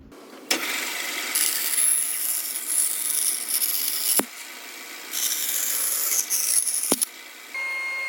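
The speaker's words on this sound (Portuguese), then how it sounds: "Depois de cortar os excessos com a serra-fita" A band saw whines and rasps through stiff Kydex sheet in several separate passes, trimming excess, with sharp clicks between cuts, close and fairly loud.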